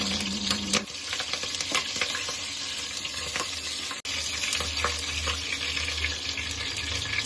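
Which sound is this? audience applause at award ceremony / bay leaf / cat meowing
bay leaf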